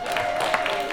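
Brief, scattered applause from a comedy club audience during a stand-up set, a short patch of clapping with a faint background hum.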